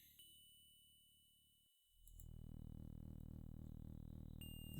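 Small hammer striking colored bells in The Legend of Kyrandia adventure game: a bright ringing tone that decays, then a sustained synthesized musical tone swelling in, clean and without talk.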